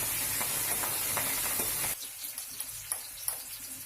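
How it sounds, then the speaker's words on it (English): Loud hiss of spices and green chili frying in hot oil for samosa filling fills the first two seconds, then drops to a quieter crackle with a few scattered pops. "Now you have to put all the masalas into oil to give it a fry"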